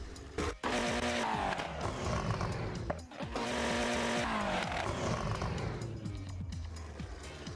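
A Koenigsegg Agera engine in the Assetto Corsa racing game roars loud and close, revving up in rising sweeps with brief drops between gear changes and throttle lifts, running continuously with no talk.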